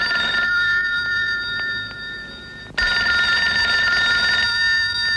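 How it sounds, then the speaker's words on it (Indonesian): A telephone bell rings loud and close in continuous bursts, with a brief lull before the ringing resumes at full strength. No voices. "Telepon nggak boleh orang senang."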